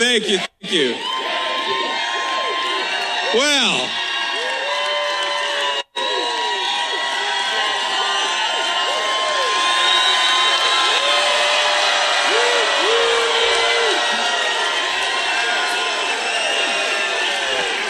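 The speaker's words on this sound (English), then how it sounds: "We have got a hell of a crowd here in the state of Pennsylvania" A large crowd at a Trump rally in Pennsylvania cheers and shouts continuously, dense and loud, with rising whoops and yells throughout.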